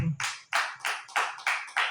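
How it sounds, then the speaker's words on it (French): Church congregation clapping in unison during a worship service, a steady rhythm of about three claps per second, sharp and fairly close with no talk over it. "Applaudis pour le Seigneur."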